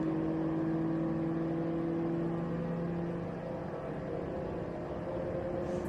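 Race cars running through turn 11 at Watkins Glen toward the white flag, a steady droning engine hum with sustained tones, moderately distant and continuous, easing slightly midway before swelling again.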